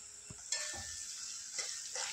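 Kadai paneer gravy with spices being stirred in a pan: a continuous close sizzle of frying, broken by a few scraping stirs of a spoon against metal, with no talk.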